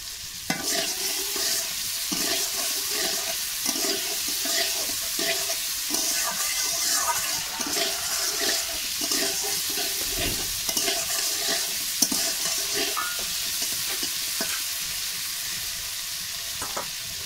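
Potatoes and teasel gourd fry steadily in a pan with a continuous close sizzle, broken by repeated scraping and stirring strokes throughout, with no voices.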